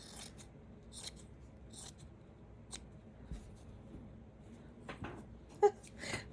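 Scissors cutting out small pink fabric pieces for a slow-stitched sachet, close and quiet, with scattered snips and rustling of cloth between pauses.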